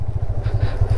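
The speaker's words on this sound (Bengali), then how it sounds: "আর নদী দিয়ে বাইক পার করা।" A motorcycle is driven across a river near Dovan in Kalimpong, its engine thumping in loud, rapid low pulses up close, with rushing, splashy noise over the top.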